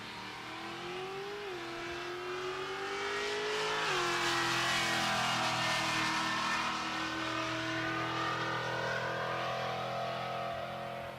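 A Camaro on the drag strip at Pueblo Motorsports Park, Colorado, during Rocky Mountain Race Week, roars hard with its engine pitch climbing through the gears. The loud, sustained run swells into a broad engine wash near its peak, with no voices.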